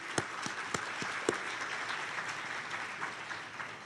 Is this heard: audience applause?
yes